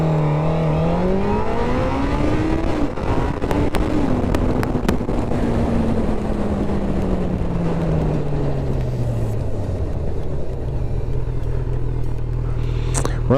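Honda CB1000R roadster, 2020 model, in sport mode accelerating hard from a standing start, the engine note climbing steadily through the revs with a gear change partway, loud and close alongside constant wind rush.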